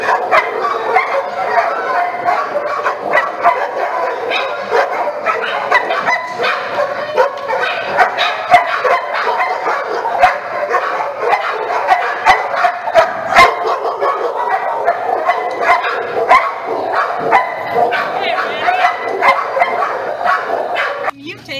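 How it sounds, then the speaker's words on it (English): A dog barks, yips and whimpers repeatedly in a busy, echoing kennel, the sound dense and continuous for a long stretch, with people talking in the background. "Barking."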